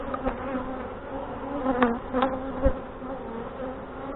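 Honey bees buzzing in an open hive during a fall feeding and inspection in northwest Wisconsin, Saskatraz queen colony: a close, fairly quiet layered hum with a few louder individual bees passing near, plus soft knocks and handling noise.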